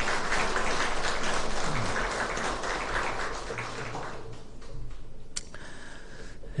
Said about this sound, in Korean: 힘차게 우리 격려의 박수, 응원의 박수 하겠습니다.